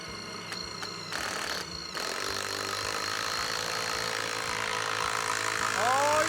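DeWalt impact driver with a right-angle attachment driving a 1/2 inch lag screw into a treated 6x6 without a pilot hole, a loud continuous hammering buzz that starts in short bursts then runs steadily, with talk nearby.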